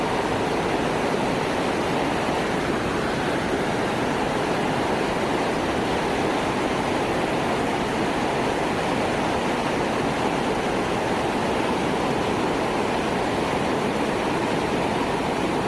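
Li Phi waterfall, where the Mekong River rushes over rapids in southern Laos, roars as a steady, dense wall of loud rushing water that continues unbroken throughout with no voices.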